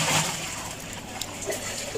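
Kewra water poured into a pot of beef akhni, a steady watery splash and trickle close by, running continuously for a couple of seconds with no talk over it.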